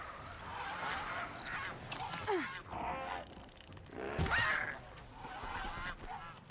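Geese honking in the video game Horizon Zero Dawn, several rough squawks scattered across the moment, moderately near, mixed with game ambience and occasional low grunts.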